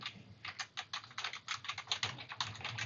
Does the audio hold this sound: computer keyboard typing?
yes